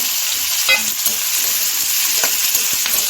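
Potatoes and onions fry in a pan at home for a masala dosa filling, giving a steady, loud hissing sizzle with faint stirring scrapes throughout.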